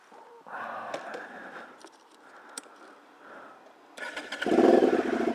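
A 2009 Aprilia Shiver 750 motorcycle with modified exhausts cranks over with a quiet whirring starter, then catches and fires into a loud, rough idle close by, no voices heard.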